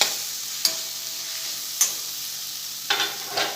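Crushed peas being stirred in a pan while making ragda, a few scraping strokes spaced about a second apart over a soft steady sizzle, close by with no talking.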